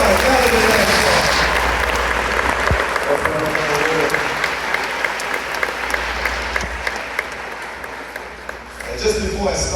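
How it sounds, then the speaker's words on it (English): A large audience at an Islamic lecture event breaks into sustained, loud applause, a dense wash of clapping that fills the whole stretch and eases slightly near the end, with some crowd noise mixed in. "a big round of applause"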